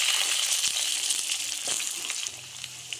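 Potatoes hiss and sizzle steadily in hot oil tempered with five-spice (panch phoron) in a Bengali home kitchen, a close, dense frying sound with a few soft stirring knocks and no talk.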